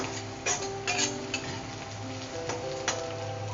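Chicken frying lightly in a pan while chicken kosha is cooked, a steady sizzle under soft intermittent stirring clicks and utensil taps, fairly close and without voices.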